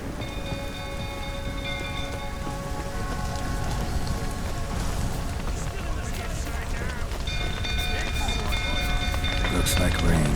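Steady rain patters across a scene in The Witcher 3: Wild Hunt video game, growing slightly louder over time, with faint tonal music hums and scattered drops beneath.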